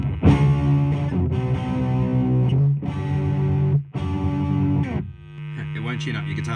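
An electric guitar runs through a Marshall Jackhammer JH-1 pedal in distortion mode, playing loud, saturated chords that ring out and change in several separate strums, with a short gap before the last one.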